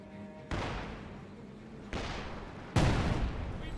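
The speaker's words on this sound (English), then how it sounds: "now got the Zis barrage engaging the MG34" In a Company of Heroes 2 battle, a ZiS gun barrage fires at an MG34 position: three heavy booming impacts arrive about a second apart, each followed by a decaying rumble, fairly loud against quiet ambience.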